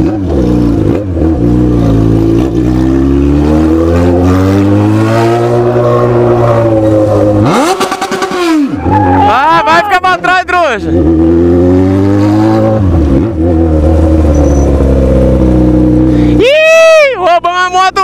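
A Yamaha XJ6 motorcycle in a video game revs and accelerates loudly, its engine tone climbing and falling through repeated gear changes, with sharp rising whines and brief interruptions near the middle and end.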